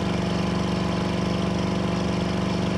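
A 1970 Ford Mustang convertible's engine runs steadily while driving, a close, continuous low mechanical drone with a dense rhythmic pulse and no clear break for a gear change.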